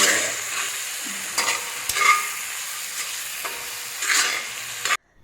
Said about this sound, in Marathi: मस्त बाजारातले फ्रेश वटाणे आहे ते मी यामध्ये ॲड केलेलं आहे हे परतून